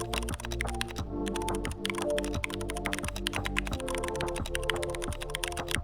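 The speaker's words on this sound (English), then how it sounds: "I forgot to record some nice keyboard sounds after I finished building it" A freshly built mechanical computer keyboard is typed on in a fast, continuous stream of crisp keystroke clicks, close and clear, with no talking over it.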